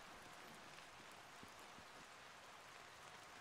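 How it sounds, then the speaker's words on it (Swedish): Steady rain patters on a metal roof, a dense even hiss with occasional distinct drops, no voices. "Det regnar ju på plåten."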